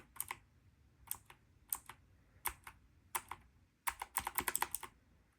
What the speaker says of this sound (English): That was the keyboard.